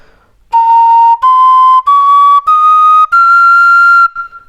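A bright, pure-toned Thai khlui phiang o flute made of khao khwai wood plays five held high notes, each a step above the last, loud and clear with short breaks between them.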